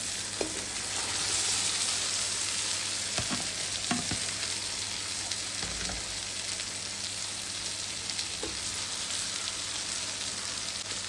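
Boiled potatoes being stirred and fried in a pan, a steady close sizzle with occasional scrapes and knocks of the spoon against the pan running throughout, no talking.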